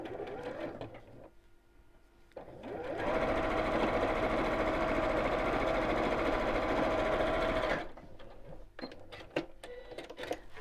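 A sewing machine stitches a quilt square in one steady, fast run of about five seconds, close and clear, with quieter handling and fabric sounds before and after.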